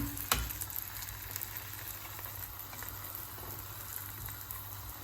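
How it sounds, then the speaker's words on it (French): Hot oil sizzles steadily as it is poured over food frying for béréndjé, a Mahorais dish, giving a continuous bubbling hiss after a brief clatter at the start, moderately loud and with no voice. "je viens ajouter d'huile par-dessus, comme ceci"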